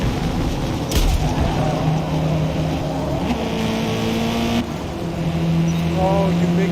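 A 6.3-liter supercharged V8 race car in the Forza Motorsport video game drones loudly and continuously, its engine pitch rising and falling through shifts, with brief sharp bursts along the way.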